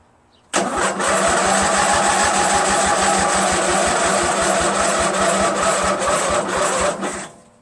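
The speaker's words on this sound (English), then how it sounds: "We know it starts and it runs slowly for a bit, and then you hear a pop and then it just stops." A Craftsman LT1000 lawn tractor's Briggs engine cranks and catches, then runs with a rapid, steady chugging putter close by, cutting off near the end.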